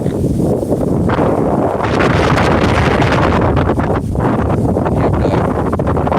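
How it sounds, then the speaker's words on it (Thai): Strong wind buffets an outdoor microphone beside a canal during a live net-casting stream, a loud continuous low rumble with gusting surges and no speech. "ลมแรงมากนะครับ อาจจะมีเสียงเสียงลม"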